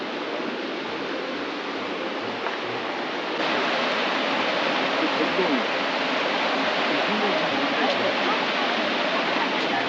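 First of six waterfalls in Gangcheonsan national park, Sunchang: steady broadband rush of falling water, continuous and fairly loud, growing slightly stronger partway through.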